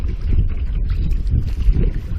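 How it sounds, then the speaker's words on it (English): Wind gusting around a canoe on a lake trip, a loud rough low buffeting rush with uneven surges and faint water sounds underneath, no talking. "First time in 2 days that actually wind is blowing my direction."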